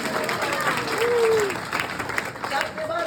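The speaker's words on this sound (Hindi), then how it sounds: "तो एक बार जोरदार तालियां बजाइए" Loud, sustained applause from a large crowd at a Holi celebration, dense clapping filling the space throughout, with a brief voice rising over it.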